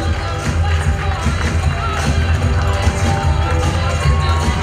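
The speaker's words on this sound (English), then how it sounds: "Come on, big round of applause!" Wedding guests at a reception applaud as the matron of honor and best man are introduced, giving a continuous, fairly loud wash of clapping and crowd noise.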